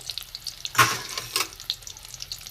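Prawn-stuffed kebab balls fry in hot oil, giving a soft bubbling sizzle with two louder bursts of crackling as they are stirred or turned, then settling back to a gentle fizz.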